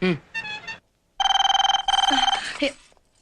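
A telephone ringing in a home: two bursts of rapid, trilling electronic rings, close and clear, after a short spoken exchange at the start.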